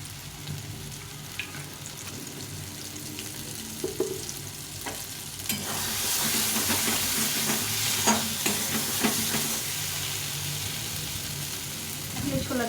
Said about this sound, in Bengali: এখন একটু তেল দিয়ে দেবো হালকা করে